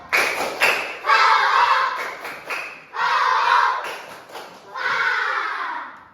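Children in a class do a spirit clap routine, sets of crisp rhythmic claps punctuated by loud shouted group chants, repeating in a steady cycle three times.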